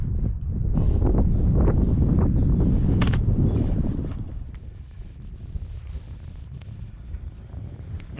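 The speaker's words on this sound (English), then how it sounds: "You can possibly hear the wind's picked up quite a bit, blowing down into this bottom corner." Strong wind gusts buffet the microphone beside a fishing lake in cold winter weather, heavy and roaring at first, then easing to a lighter, steady blowing.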